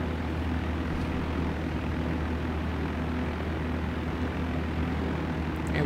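A single-engine plane in the Flight Sim World game, its leaned engine droning steadily in flight over the Grand Canyon, a constant low propeller hum at moderate level with no speech.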